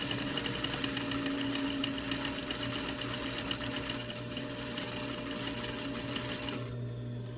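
A sewing machine runs steadily and loudly as it stitches a fabric face mask, its needle whirring in a continuous, even rhythm for the whole stretch, easing slightly near the end.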